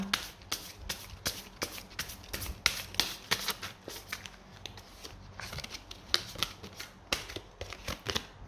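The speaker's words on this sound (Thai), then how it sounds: "ขออนุญาตสับไพ่ให้กับชาวกลุ่มนะคะ" Tarot cards being shuffled by hand, a steady run of crisp riffling flicks and soft slaps repeating close by with no talk over them.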